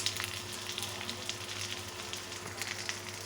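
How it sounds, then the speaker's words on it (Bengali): Ginger-garlic paste and cumin paste frying with onions in a pan give a steady, close sizzle with small crackling pops throughout, and no voices. "আদা রসুন ভাজা হয়ে গেছে, এবার মরিচ গুঁড়ো, হলুদ গুঁড়ো, ধনে গুঁড়ো দিয়ে দিব।"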